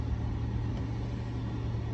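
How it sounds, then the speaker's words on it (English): Rough-running car engine just after a cold start in snowy winter weather, a steady low droning rumble close to the microphone with no talking. "that's about one of the roughest cold starts on this fella I've heard yet"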